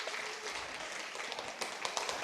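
A church congregation at a Sunday service applauds briefly, a soft, dense patter of many hands heard from some distance, steady for a couple of seconds with no talk over it.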